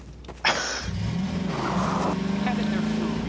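A truck engine in a video game revs and accelerates under a person talking, holding a steady growl after a brief sharp burst near the start.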